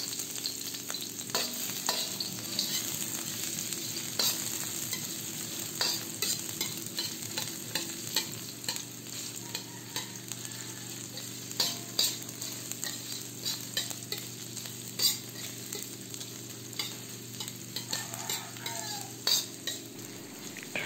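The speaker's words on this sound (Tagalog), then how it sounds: "ilagay na natin ang hiniwang luya. Lutuin lang natin ang luya ng 2 minuto." Sliced ginger fries in a hot pan over medium heat, a steady close sizzle broken by frequent sharp clinks and scrapes of a utensil stirring against the pan, with no talking.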